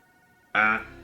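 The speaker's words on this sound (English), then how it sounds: "And the phone rings" A telephone rings in a film scene, one loud tonal ring bursting in suddenly after near silence and fading as it ends.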